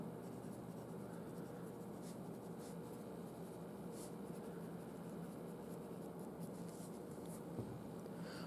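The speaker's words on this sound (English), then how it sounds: "I can use a protractor to draw a fairly accurate angle." A pen or pencil drawing a 68 degree angle on paper against a protractor, heard as steady close scratchy writing strokes that continue for the whole stretch with no talk.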